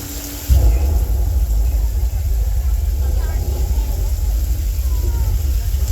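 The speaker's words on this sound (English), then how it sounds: "The lightning is from strobe lights, and the thunder is coming from speakers around Old Mexico." Theme park thunder and rain special effect playing from speakers around the Old Mexico area at Universal Studios. A loud, steady low rumble with broad hiss starts abruptly after half a second and continues unbroken.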